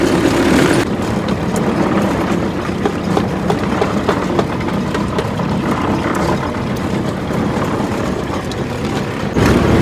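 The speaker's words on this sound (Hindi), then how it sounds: "ये ट्रैक्टर इस मशीन को चला रहा है और ट्रैक्टर इस मशीन को लेके भी जाता है।" A tractor engine runs a machine with a loud, steady droning rumble and rapid rattling clatter that holds throughout, close by and with no talk.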